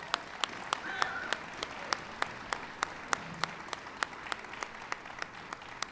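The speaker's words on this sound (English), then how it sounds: "Please give him a big round of applause." An audience at a White House event honoring wounded service members applauds steadily. Sharp, close claps stand out at a regular beat above dense crowd clapping.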